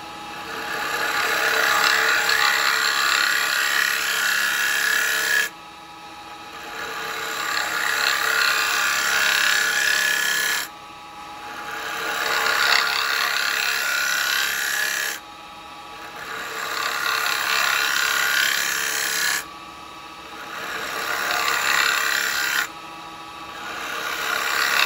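A carbide chisel cuts wood on a lathe while a bowl is turned, giving a loud rasping, scraping whir in long passes of about five seconds, each broken by brief quieter gaps.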